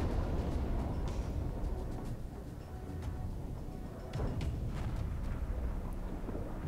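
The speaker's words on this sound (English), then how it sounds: "More explosions." Deep rumbling booms and crackling bursts roll on continuously, explosions in the game Far Cry 3 at moderate volume with scattered sharp clicks, and no one speaks.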